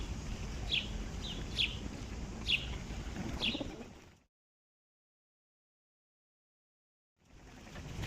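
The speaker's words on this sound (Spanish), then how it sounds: "Carboneros, gorriones." Great tits and sparrows sing in a park with short, bright chirps repeating over a rustling background for about four seconds, then a stretch of silence before the ambience returns.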